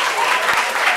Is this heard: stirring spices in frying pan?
no